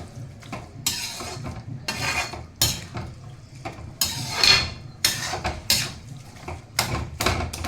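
A spoon scrapes and knocks against a pot while gajar halwa, a carrot pudding, is stirred, making repeated clattering strokes at an uneven rhythm, close and clear with no talk.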